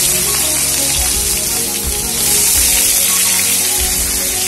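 Onions hiss loudly in hot oil in a pan over a mustard seed, urad dal and cumin tempering, a dense, close, continuous sizzle with no talk.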